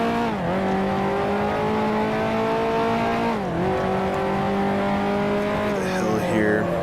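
A 1955 F1 car in Grand Prix Legends holds a loud steady engine drone with a series of quick pitch drops as it downshifts into a corner, then rising revs and a short tire squeal, a voice talking over it.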